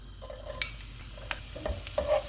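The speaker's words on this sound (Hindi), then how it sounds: "ऑयल गर्म हो गया, इसमें लहसुन डालेंगे।" Garlic fries in hot oil in a pan, sizzling with a few stirring scrapes and short crackling bursts, close by and moderately loud, with no voices.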